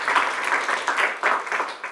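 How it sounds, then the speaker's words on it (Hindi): Studio audience applause on a Hindi quiz show, a dense, even patter of many hands that stays steady for about two seconds and then stops abruptly. "ज़ोरदार तालियां मूर्ति सर के लिए"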